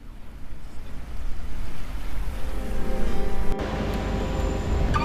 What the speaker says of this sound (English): we are now at the Black Sand Beach